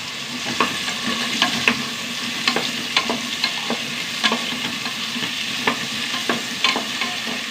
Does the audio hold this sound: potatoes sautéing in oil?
yes